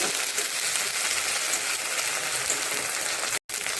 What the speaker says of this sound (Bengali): এখন এই মশলাটা ভালো করে আর একটু ভেজে নেব।